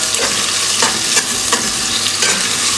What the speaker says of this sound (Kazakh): 1 дана пиязды ұзынша етіп турап, осылай 5-6 минуттай қуырамыз